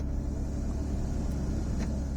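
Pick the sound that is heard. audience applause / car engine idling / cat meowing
car engine idling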